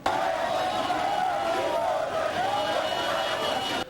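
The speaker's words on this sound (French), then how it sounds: "le gouverneur Boloko Bolumbu Bobo a eu droit à un banc de foule où fusaient de toutes parts de cris de félicitations et de slogans d'encouragement" A large crowd in Mbandaka cheers and shouts slogans to welcome the returning governor, a dense roar of many voices with rising chant-like cries, heard close and continuous.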